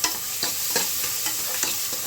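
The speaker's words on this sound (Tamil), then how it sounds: "கொஞ்சம் கோல்டன் ப்ரௌன் வர வரைக்கும் வதக்கிங்க வெங்காயத்தை" Onions sizzle steadily in a hot pan while being sautéed toward golden brown for goat trotter paya, with rhythmic scraping strokes of stirring every fraction of a second and no talking.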